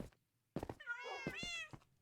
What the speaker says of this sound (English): these are all my cats that I got for the cat achievement